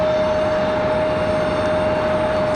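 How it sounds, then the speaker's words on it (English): A Boeing 737 MAX jet departing Raleigh-Durham International at night, a loud, steady roar of engine noise with a sustained high whine tone, continuous and unbroken, with no talking. "So we'll get that 737 MAX out of here and back to Reykjavik."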